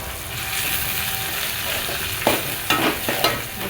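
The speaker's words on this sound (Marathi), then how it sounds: "छान असं तेल सुटेपर्यंत त्याला ढवळायचं" Spice paste with curry leaves and coriander frying in oil in a pan, stirred steadily: a continuous close sizzle with several sharper scraping clinks of the spoon against the pan near the end.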